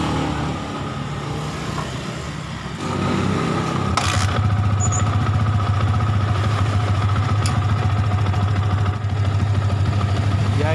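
An old Yamaha Vixion motorcycle, serviced for a draining battery, cranks and starts up nearby, then settles into a steady, rumbling idle that continues to the end.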